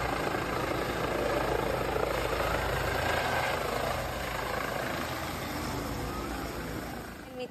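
A helicopter sets down on a football field at dusk, its rotor and engine roaring loud and steady and close throughout, easing slightly toward the end with no voices over it.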